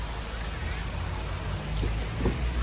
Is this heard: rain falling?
yes